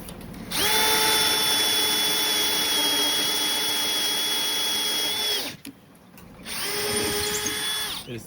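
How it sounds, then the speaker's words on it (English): A power drill bores with a 15/64 non-stepped drill bit, a steady, loud high whine that runs for about five seconds, stops briefly, then starts again and holds to the end. "this is the 15/64 stepped. Sorry, non-stepped in the drill"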